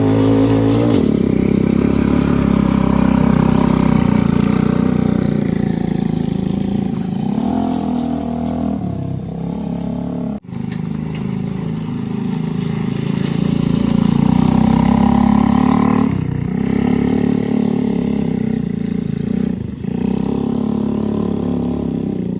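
A homemade buggy's engine runs steadily and loudly at speed through quick turns, a constant droning roar with slight dips and surges in pitch and no talk over it.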